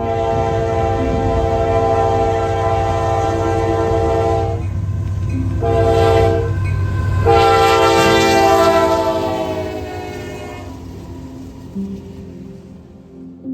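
A BNSF freight train rolls past close by, its horn blaring in long, loud blasts over a steady rumble of wagons, then fading as the cars keep clattering by.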